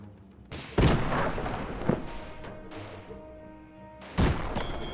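Small guns on airships in the steampunk game Airships: Conquer the Skies fire a few loud, booming shots, spaced irregularly, each trailing off into a rumbling decay.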